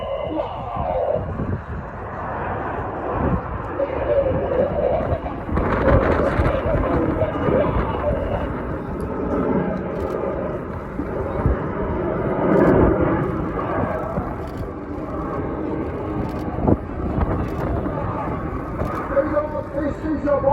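Fursan Al Emarat aerobatic jets fly the bomber maneuver at the Royal International Air Tattoo at RAF Fairford, a broad rumbling engine roar that swells and fades past a crowd, with an announcer talking over it.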